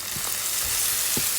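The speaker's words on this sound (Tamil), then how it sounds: "ஒரு கேரட்டை சேர்த்து நம்ம அழகாக இதை நல்லா வதக்கிக்கலாம்" Chopped carrot, onion and tomato sauté in hot oil in a pan for seafood fried rice, a steady soft sizzle with a few brief stirring scrapes.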